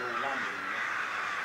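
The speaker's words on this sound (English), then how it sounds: "No, they're crows. Jackdaws." Crows and jackdaws caw and chatter in the distance, several birds calling together amid outdoor noise, with people talking nearby.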